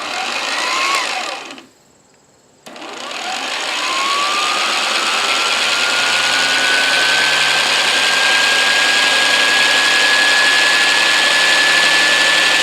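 An 8-amp electric belt sander whirs steadily and loudly, cutting out briefly before starting up again and running continuously with a rising whine.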